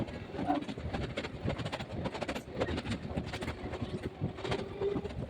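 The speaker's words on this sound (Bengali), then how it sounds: "এখন আমাদের ট্রেন ধীরে ধীরে প্রবেশ করছে কোলাঘাট ব্রিজে" A train rumbles along steadily onto the Kolaghat bridge over the Rupnarayan River, with rhythmic rattling and clacking of wheels, heard from inside at moderate volume.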